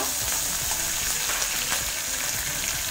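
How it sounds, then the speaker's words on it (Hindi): Green chillies roast in a pan for thecha with a steady close sizzle and crackle, scattered stirring scrapes and small pops running throughout, with no talk. "मिर्चा भाजून घ्या"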